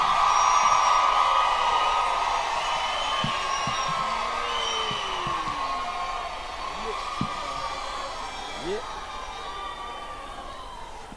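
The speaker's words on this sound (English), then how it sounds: "Please give them a round of applause." Cheering, whoops and high trilling calls from the audience at a Limkokwing University Lesotho graduation ceremony, a sustained crowd noise that slowly eases off, with scattered shouts standing out.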